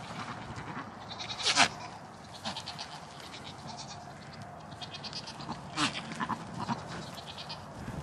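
Goats and does bleating in an outdoor pen, several separate cries at varying distances over steady farmyard background noise, with no talking.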